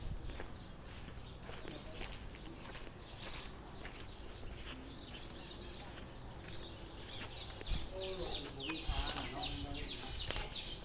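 Fighting roosters (game fowl) clucking outdoors, the calls scattered and partly buried in a dense, noisy ambient backdrop, with a few louder moments near the end.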